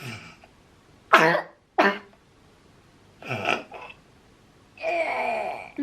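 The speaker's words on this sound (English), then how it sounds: "you've barely coughed for the last few hours" A child coughs in several short, harsh bursts with quiet pauses between, close by, followed by a longer rasping cough at the end; the child is unwell.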